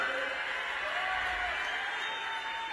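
A large outdoor crowd at Amit Shah's election campaign rally in North Bengal applauds in a continuous, even roar of massed clapping and crowd noise, distant and steady throughout with no clear pauses.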